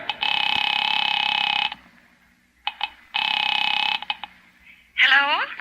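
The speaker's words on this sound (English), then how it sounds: "Picking it up quietly, I dialed my daughter's number, Alec Bartlett's wife." Old-time radio drama effect of a telephone number being dialed: two long steady electronic dial tones separated by short clicks and blips, ending in a warbling ring tone, close and loud with no voices.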